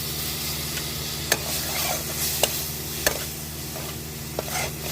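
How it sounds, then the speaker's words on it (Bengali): Spices with cumin and coriander powder frying in a pan for egg curry, a steady sizzle with a few sharp knocks of a spoon stirring, close and with no talk. "জিরে গুঁড়ো, ধনে গুঁড়ো, দিয়ে আমি ভালোভাবে কষিয়ে নেব।"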